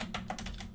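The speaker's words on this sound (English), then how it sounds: "underneath here we're going to type in distance" Keys tapped on a computer keyboard while entering a Cisco router configuration command, a short run of quick, close clicks with no talking.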